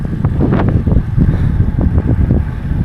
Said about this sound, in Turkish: Evet dikkat edersiniz arkadaşlar bayağı rüzgar var.